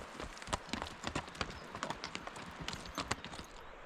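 Horses walking along a trail beside a mountain stream, their hooves clip-clopping in a steady, uneven patter close by and moderately loud, with no talk over them.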